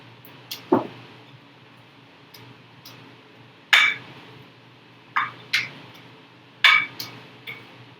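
Fettuccine being tossed with homemade tomato sauce in a pan, giving a few scattered clinks and scrapes of utensil against cookware at moderate loudness over a faint background hum, with no talking.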